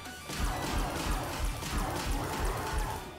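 A thunderbolt attack lands in the video game Miitopia, making a loud crashing burst with a run of heavy low booms rolling under dense, noisy effects for about three seconds.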